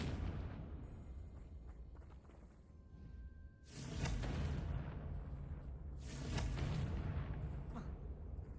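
Confringo blasting spell explosions in the Hogwarts Legacy video game, two loud bursting blasts a couple of seconds apart, each followed by a rumbling, crackling tail over game ambience.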